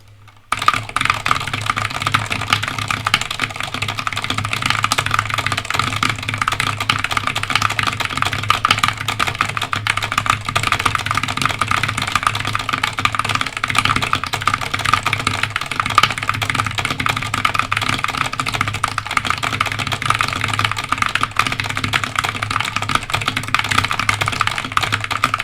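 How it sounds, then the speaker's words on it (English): Fast, continuous typing on a GK61 mechanical keyboard, a steady stream of close, even keystrokes kept up without pause. "do a quick 30-second typing test so you can hear what the keyboard sounds like"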